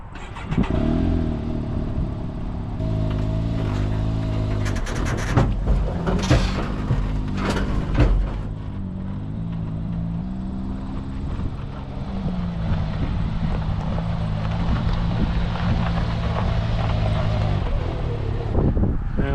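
Side-by-side UTV engines run and rev nearby at a fairgrounds as the machines are unloaded, a steady loud drone with swells and a few sharp clanks in between.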